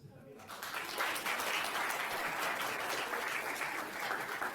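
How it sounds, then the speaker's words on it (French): Steady applause from a crowd at a magic show, a dense wash of clapping that rises after a brief quiet start and continues evenly throughout. "cela peut s'applaudir"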